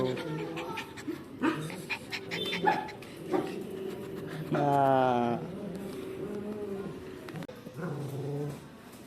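A dog panting, whimpering and giving short yips and growls close by, with a longer whining vocalization midway, amid people talking.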